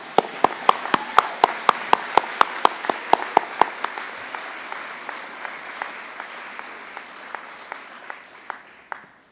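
Applause at a school graduation ceremony, a room full of people clapping steadily with sharp individual claps standing out near the front, gradually thinning and fading after several seconds.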